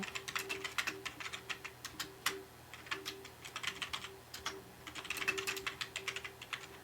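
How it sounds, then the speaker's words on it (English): Keyboard keys clack in quick, uneven bursts of typing, close and fairly quiet, with no one talking. "You hear the clacking of the keys like I do?"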